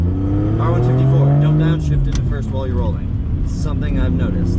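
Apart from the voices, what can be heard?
car engine revving while downshifting, R154 gearbox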